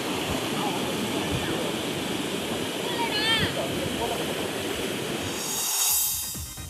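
Water gushing through the fully opened shutters of a dam, a broad continuous roar that holds steady and loud, with a brief whistling tone partway through and a news-report voice over it.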